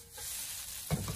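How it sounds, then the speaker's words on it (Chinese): Noodles hitting a hot wok to pan-fry briefly before stir-frying, a steady soft hiss rising into a sharper sizzle near the end, close and short. "把面条下锅了以后，给它稍微的煎一下，然后再将它炒至干香"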